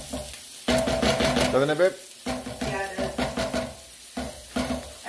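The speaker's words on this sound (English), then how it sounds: "So saute up your greens first." Greens and onions sautéing in a hot pan, a soft sizzle with stirring scrapes, heard beneath people chatting close by.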